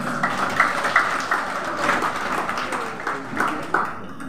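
Participants at a church synod conference applaud, a crowd of hands clapping in an uneven patter with louder bursts, fairly close and continuing for several seconds with some voices mixed in.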